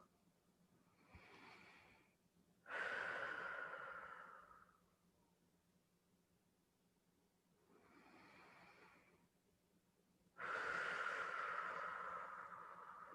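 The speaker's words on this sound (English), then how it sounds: "take a couple of nice deep rounds of breath, maybe 2 rounds of nice deep breath" Slow deep breathing during a guided yoga-style relaxation, two full rounds of a soft inhale followed by a longer, louder breathy exhale, close and quiet with calm pauses between.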